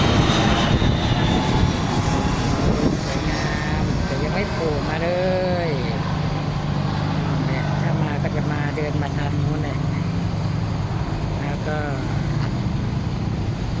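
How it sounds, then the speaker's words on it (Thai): A fixed-wing airplane passes overhead outside a hotel, a steady, loud low engine drone lasting throughout, while someone talks over it. "ก็มีเครื่องบินมานะครับเครื่องบินเครื่องบิน"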